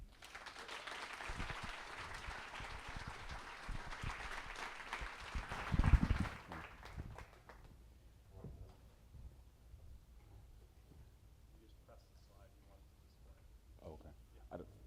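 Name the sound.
audience applause welcoming a speaker to the stage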